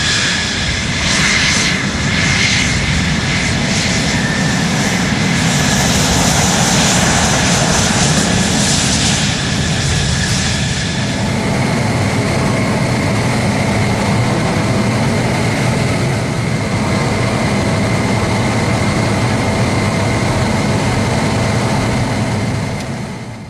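Hellenic Air Force F-16 Block 50 fighter jet engine run up to full military power: a loud, steady, continuous roar with a deep rumble that holds for the whole stretch without any pause.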